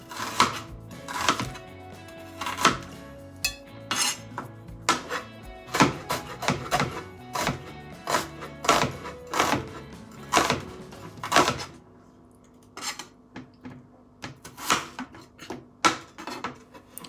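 Onions are sliced thinly for adobo with a knife on a cutting board, giving a steady run of sharp, close chopping taps with brief pauses and some clatter, with no talking.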